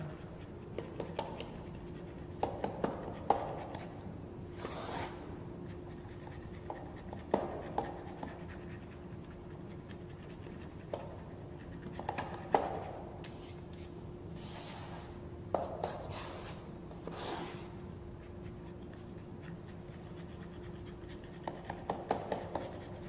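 A paddle cutting through and mixing sushi rice in a bowl, heard as quiet, close scraping strokes in irregular bursts over a low steady background hum.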